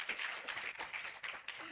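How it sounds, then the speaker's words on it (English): A round of applause at a Falling Walls Lab research pitch event in Yogyakarta, Indonesia, a moderately quiet, slightly uneven patter of clapping that rises and dips over a short stretch. "once more, give them a round of applause"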